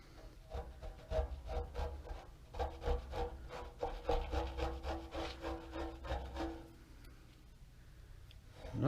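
A plastic Bondo card scrapes across body filler on an Early Bronco truck panel in a steady run of about a dozen rhythmic, rasping strokes, close up, before the scraping stops and it goes quieter.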